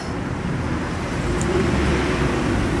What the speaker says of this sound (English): We got the Nitrous C63 pulling up.